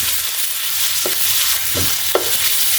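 Minced pork is stir-fried in a hot wok for a Thai glass-noodle and fish-ball basil dish, with a steady loud sizzle and a few distinct scraping strokes of the spatula.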